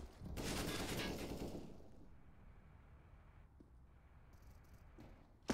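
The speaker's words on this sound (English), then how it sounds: "Max is going to go ahead and reveal that they're on Deagles." Desert Eagle pistols fire in Counter-Strike on the Overpass map during a competitive esports match. A dense, loud burst of gunfire rings out early, then fades into a quiet stretch with faint scattered clicks and a sharp pop at the very end.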